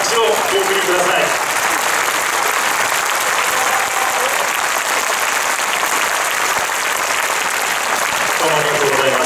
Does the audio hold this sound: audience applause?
yes